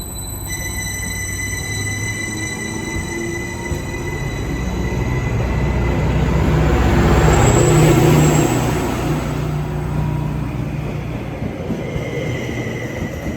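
Interior of a moving Greater Anglia passenger train on the Wherry Lines, the 07:50 service toward Cantley, a steady rumbling roll of wheels and carriage that swells louder mid-ride and then eases back, with no talk.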